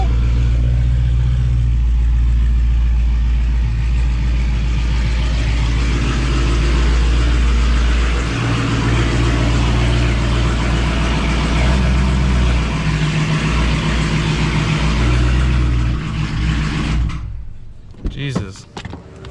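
2016 Dodge Challenger SRT Hellcat engine running: a loud, close, deep idle rumble with a droning low tone and rising bursts, holding steady before cutting off abruptly near the end.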